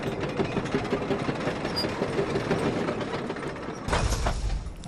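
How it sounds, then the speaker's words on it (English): Rickety elevator in the video game Bloodborne: a continuous rattling, clanking mechanical rumble like a rail car, loud and steady, with a heavier thud and shift near the end and no talk. "It's a perfect sound for this rickety elevator."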